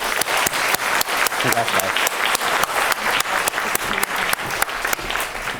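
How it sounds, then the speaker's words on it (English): A conference audience gives rhythmic, fairly close applause with distinct individual claps standing out, while a brief spoken word breaks in partway through. "So please help me in giving them a round of applause."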